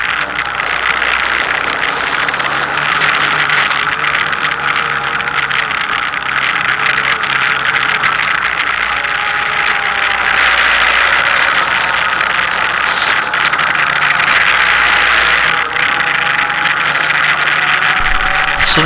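An ATV rides down a sand wash dirt road into Last Chance Canyon in the El Paso Mountains, its engine droning steadily and loudly throughout, close up with a rough vibrating rumble and shifting pitch as it runs.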